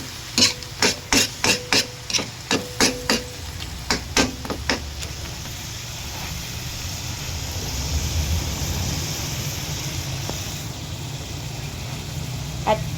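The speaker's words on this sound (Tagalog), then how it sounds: "halu-haluin lamang po ng konti" Vegetables for pakbet stirred in a pan with a utensil, giving a quick run of about fifteen sharp, regular scraping clacks over the first five seconds, then a steady low cooking rumble with scattered faint clicks.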